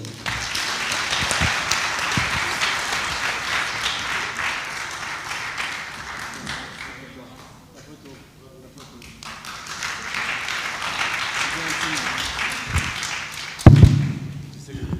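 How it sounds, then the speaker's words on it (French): An audience at a Moroccan awards ceremony applauds a general practitioner receiving a trophy. The clapping swells, dips midway, then rises again, with voices heard over it and a thump near the end. "je vous demande vraiment de l'applaudir"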